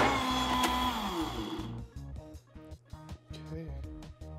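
A Zanduco brushless blender churning chocolate strawberry ice cream, first a loud steady whine, then choppy pulsing bursts as the thick mixture is pushed down with a tamper.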